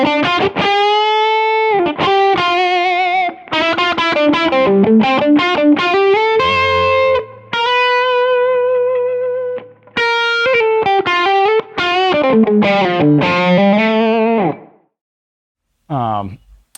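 A distorted electric guitar, a D'Angelico Deluxe Bedford SH on its bridge mini humbucker, plays a singing lead line with sustained bends and quick runs, loud and close, before cutting to silence and a brief final note.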